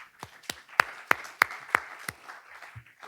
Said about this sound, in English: a round of applause to everybody for coming